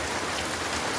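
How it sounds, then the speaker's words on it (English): Steady rain pours down onto the ground on a forest trail during a thru-hike, a dense, even hiss of drops close by with no voices. "Here comes the rain again."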